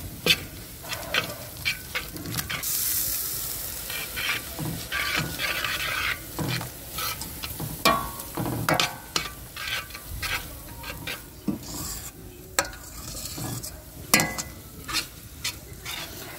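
Tomato paste sizzling and frying in a pot for goat head and trotter soup, with a soft hiss underneath and repeated scraping and stirring clicks from a utensil.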